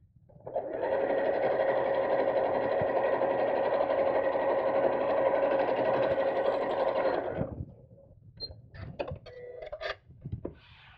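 A sewing machine runs a straight quarter-inch side seam on a fabric craft bag, humming steadily and loudly for about seven seconds before stopping, followed by soft handling clicks and rustles.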